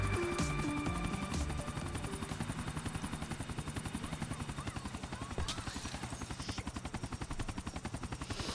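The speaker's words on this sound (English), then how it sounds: "Not even excited about landing that chopper perfectly" A helicopter in GTA IV: The Ballad of Gay Tony comes down onto a helipad, its rotor beating in a fast, steady pulse close by, with engine whine and a few sharper thuds and clatters as it settles.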